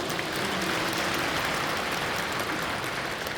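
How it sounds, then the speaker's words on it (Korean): Church congregation at an Easter joint prayer service at Yeouido Full Gospel Church claps in thanks, a dense, loud and continuous wash of applause filling the room without speech. "우리 하나님께 감사의 박수를"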